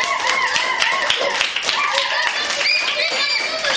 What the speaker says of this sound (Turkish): Alkışın. Alkışın.